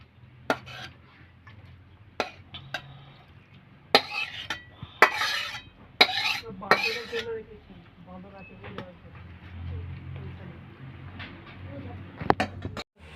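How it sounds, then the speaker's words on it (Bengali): Cooked telakucha (ivy gourd) greens are scraped and tipped from a pan into a bowl, giving scattered metallic clinks and clatters of utensil against cookware, close by, with a soft background hum. "এবার আমি একটা পাত্রে ঢেলে নিচ্ছি"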